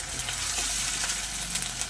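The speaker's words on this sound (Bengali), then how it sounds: "আদা রসুন বাটাটা একটু ভালো করে ভাজা ভাজা করে নেব" Ginger garlic paste frying in hot oil in a pan, a bright, steady hiss of sizzling that holds at an even level throughout, with faint crackles and no talk.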